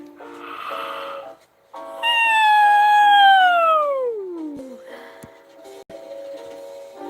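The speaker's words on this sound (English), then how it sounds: "I'll do a cat stretch and then do a loud yawn" A long, loud, drawn-out yawn from a voice, sliding downward in pitch, with brief vocal sounds before and after it.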